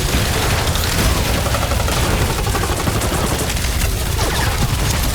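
Nova Corps cannons unleash a dense, relentless barrage of energy gunfire in the Guardians of the Galaxy video game, loud and continuous with rapid overlapping blasts and booms.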